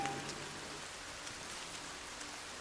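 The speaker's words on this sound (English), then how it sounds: "Well, thankfully it's raining though." Steady rain falls at night in a forest, a soft, even hiss of drops on leaves and ground with no voices.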